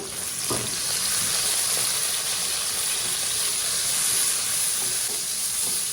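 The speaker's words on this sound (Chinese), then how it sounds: "用大火先把油烧热，然后倒入我们切好的小料，爆一下香" Chopped scallion and ginger hit hot oil in a pan over high heat, a loud, steady, close-up sizzle and hiss that runs without a break and carries a few faint clinks near the start.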